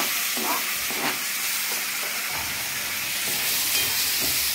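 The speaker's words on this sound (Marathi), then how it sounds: "टमाटर छानपैकी परतून घ्यायचं आहे" Finely chopped tomato is sautéed in a pan with kasuri methi and spices, making a steady hissing sizzle punctuated by a few spatula stirs and scrapes, close and continuous with no talking.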